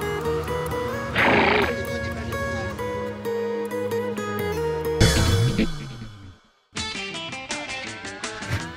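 A donkey brays loudly and close, a long harsh rasping call over a busy mix of sound, then a sharp break of near silence before another noisy burst.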